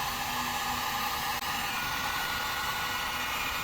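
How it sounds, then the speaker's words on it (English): A heat gun runs continuously at close range while fitting an OEM camera to a G37 car, giving a steady loud whooshing blower hiss with a faint low hum underneath and no talking. "We're gonna use our heat gun here."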